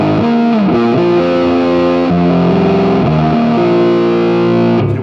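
An electric guitar plays through a Quad Cortex modeler with a distorted, effects-laden tone, sustained melodic lines and bends flowing continuously and loudly with no talking.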